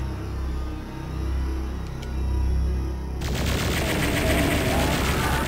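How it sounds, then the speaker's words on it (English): The plasma rifle in Doom on the PS1 fires in a rapid, dense stream of buzzy bursts that cut in suddenly over a low, droning game ambience and continue steadily to the end. "Plasma rifle."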